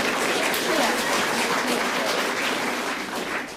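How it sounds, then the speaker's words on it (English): Studio audience on a 1970s British panel game show breaks into sustained, dense applause that stays loud and fills the room, tapering slightly at the end. "They clapped as though it was a tenor solo"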